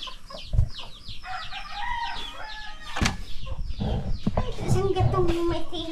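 Chickens cluck and crow close by, several birds calling in overlapping bursts alongside a rooster's crow, while men chat over them in a rural yard.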